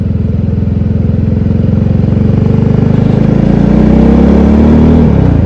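An Italika Vort-X 300R motorcycle engine, still in its break-in period, runs steadily and loud while riding, its throttle rising slightly toward the end before easing off.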